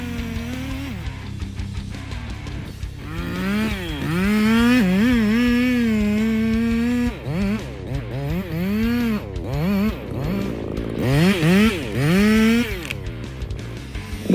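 A chainsaw revs and cuts as a tree is sawn down in a forest, its engine pitch rising and falling in repeated surges, loud and close, with no voices.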